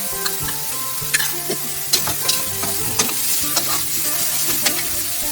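Ready-made stir-fry sauce hitting a hot pan, loud close sizzling with a stirring utensil scraping and clinking in an irregular rhythm, no talking.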